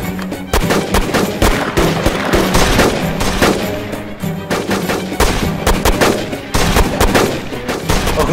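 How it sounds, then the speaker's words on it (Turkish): A pursuing enemy fires sustained, loud bursts of automatic gunfire with dense, rapid rattling shots and brief pauses, close and dominant throughout. "Aga hala sıkıyor ya."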